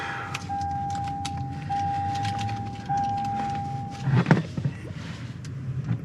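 Inside a 2022 Toyota Tundra, a steady electronic chime sounds for several seconds before the push-button start cranks the engine with a brief rumbling burst, then it settles into a low idle.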